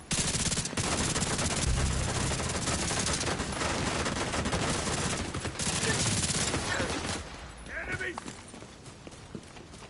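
Dense automatic and burst gunfire from The Division 2 video game, loud and near, with rapid overlapping shots that ease off toward the end, under talking voices.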